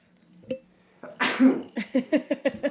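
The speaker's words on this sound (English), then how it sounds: "I do feel a sneeze coming on" A single sharp sneeze bursts out, followed by a few quick rhythmic voiced breaths or gasps close to the microphone.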